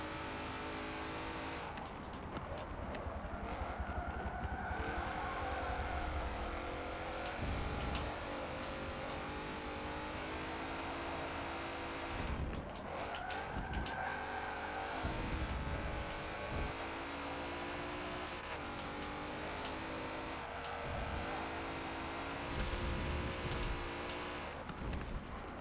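A race car laps Road Atlanta in Forza 7, its engine revving hard through repeated gear shifts and brief lifts, with tyre noise under a loud, continuous drone and no speech.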